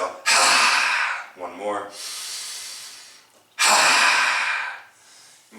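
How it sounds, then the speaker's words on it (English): Rapid, forceful breaths through an open mouth with the tongue out during Kundalini yoga, loud and close, in two long bursts of panting broken by a short spoken instruction. "That's a rapid inhale and then a rapid exhale with the tongue out and the mouth open"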